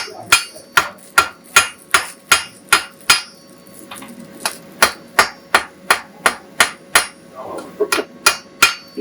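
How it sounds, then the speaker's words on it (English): Steady metallic hammer blows ring out on an anvil while forging copper, brass or stainless steel, about two strikes per second, loud and close, with a brief pause midway before the rhythm resumes. "It's where you're hammering on the far end. Really ringing."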